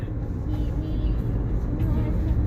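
An auto rickshaw on the road to Jejuri rumbles past with a steady low engine drone and broadband traffic noise, fairly loud and continuous throughout.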